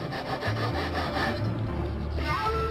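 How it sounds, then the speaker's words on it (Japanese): Steady back-and-forth strokes of a Japanese hand saw cutting the corner off a piece of wood, close and continuous with a rhythmic rasp. "今度はその角をノコギリで落としていくのですが"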